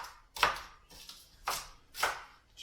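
Green onions being roughly chopped with a knife on a cutting board, four distinct thuds in an uneven rhythm, close and clear with no talking.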